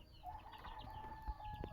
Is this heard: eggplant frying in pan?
no